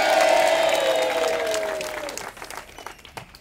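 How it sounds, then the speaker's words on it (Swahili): An audience at a live public event applauds loudly at first, then the clapping thins into scattered claps, with a sustained tone fading away during the opening seconds. "Mpigie makofi tafadhali"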